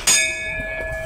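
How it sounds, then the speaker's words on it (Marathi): A single bright strike of a Datta temple bell rings out and hangs in a long, steady metallic hum that slowly fades. "तर ही घंटी वाजवतो"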